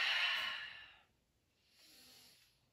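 A slow, breathy exhale during yoga practice, loud and close at first, then fading into silence before a softer second breath rises, with no talking.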